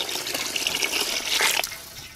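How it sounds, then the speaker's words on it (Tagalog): Water pours into a pot of beef for balbacua soup, a steady gushing splash that swells louder toward the end before cutting off, with no voices. "maglalagay na tayo ng tubig"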